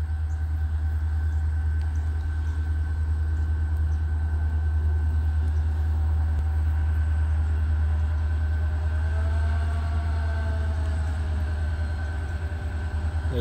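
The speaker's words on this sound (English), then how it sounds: "Here comes our first train." A Union Pacific freight train led by SD40N locomotive 1894, with 46 cars, rumbles past at close range in Rutherford, Texas, a steady, loud drone of locomotive and wagons lasting throughout with no talk.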